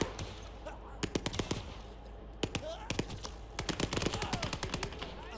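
Bursts of machine-gun fire and single gunshots in the World War II game Call to Arms - Gates of Hell: Ostfront, sharp and close, coming in rapid clusters over a steady background rumble, with a voice talking in between.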